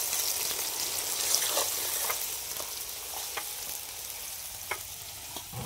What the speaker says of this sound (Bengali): এর মধ্যে এবার তেলটা গরম হয়ে গেছে, পেঁয়াজটা দিয়ে দেবো।